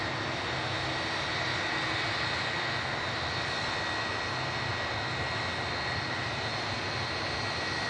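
Aircraft engines idling on the stand at an airport, a constant loud whining din with no change in level.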